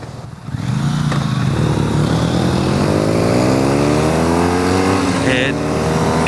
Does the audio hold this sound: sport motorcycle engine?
yes